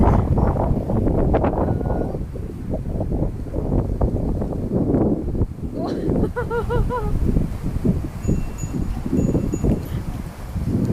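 Gusty wind buffets the microphone with a steady roar while people talk nearby on Robertson Bridge, Singapore; a brief high chirping is heard partway through.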